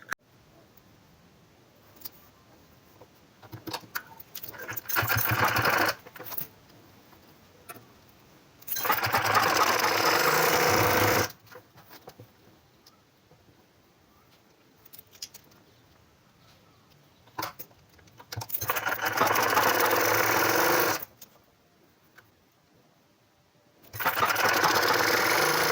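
A sewing machine stitches baby shirt fabric in short loud runs of a few seconds each, separated by quiet pauses with faint handling noise.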